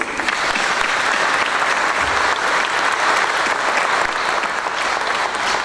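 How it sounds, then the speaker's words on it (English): Sustained, loud applause from a sizable conference audience for a panel fills the whole stretch, dense clapping with no break. "a round of applause for my panelists here this morning"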